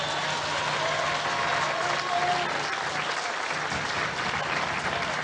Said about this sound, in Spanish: Un aplauso de aquí a Palenque para que nos oiga.